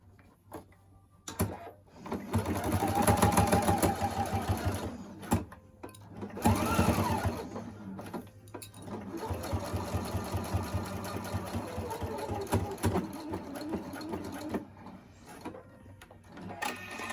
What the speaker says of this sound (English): Stitch just to the left of that seam right there.